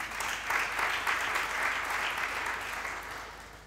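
A church congregation claps steadily in applause to acclaim the Lord, a dense crowd sound that holds evenly and tapers slightly at the end.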